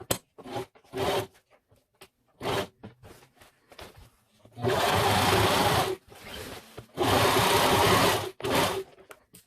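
A serger stitches a seam on blackout drapery fabric in bursts: several short runs, then two longer steady whirs, with quiet pauses between them.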